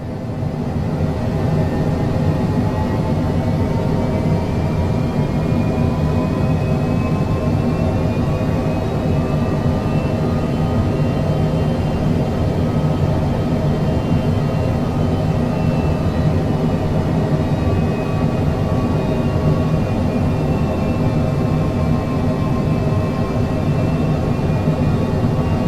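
King Air turboprop engine drone in a flight simulator game during the final approach to touchdown, a steady loud hum with slowly shifting tones, continuous and without talk.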